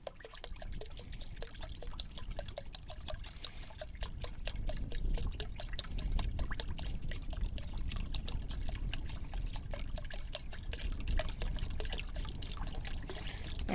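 Water pours steadily into a container of water-based Tikkurila Viva Color paint, thinning it for a low-pressure HVLP spray gun, a continuous gurgling trickle heard close and alone for about fourteen seconds.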